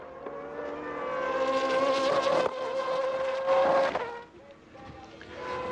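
A 2005 GP2 race car engine at Silverstone screams at high revs, rising in pitch, then over-revs on a missed gear with a sharp buzzing flare before dropping away, loud and close.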